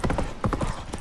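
Hooves of the horse Roach pound rhythmically in The Witcher 3, a quick close clip-clop gallop filling the short moment.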